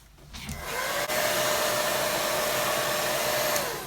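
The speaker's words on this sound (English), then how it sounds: "I'm just going to put the hairdryer on this and dry this off," A hair dryer switches on after a brief pause and runs with a steady, loud whirring hiss, up close, drying a watercolour painting, then starts to wind down at the end.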